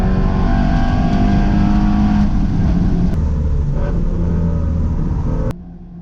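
A Ford Mustang GT350R race car roars along a road course at high speed near 135 mph during an SCCA event, a loud, sustained engine drone close by that shifts pitch and drops off sharply near the end.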